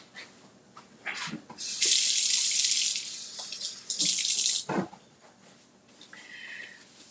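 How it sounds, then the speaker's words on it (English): Hands are washed under a running kitchen tap. Water bursts on loudly twice in gushing spells with brief pauses between them, with clicks and handling noises before and after and no talk. "Let me wash my hands"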